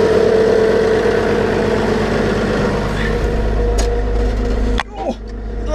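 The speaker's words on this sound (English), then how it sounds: "Premium loader tractor." A premium loader tractor idles at a farm shop with a steady low engine hum. The hum drops and shifts near the end, and a brief clatter follows.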